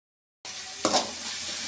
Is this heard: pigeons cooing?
no